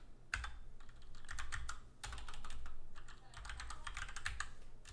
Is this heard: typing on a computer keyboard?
yes